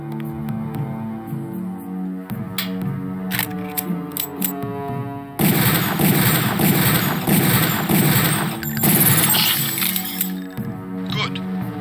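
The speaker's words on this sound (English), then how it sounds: "Release the first target and take a few shots with one of the pistols until it is destroyed" Pistol fire at a training target in the game Deus Ex, a few sharp shots over a looping music bed, then a long loud burst of crackling impact noise from the target being destroyed.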